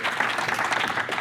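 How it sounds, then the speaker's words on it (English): An audience at a sales and demand-generation summit claps for a colleague named Ed, a brief dense burst of applause filling the room evenly at moderate volume. "Let's give it a round of applause for Ed."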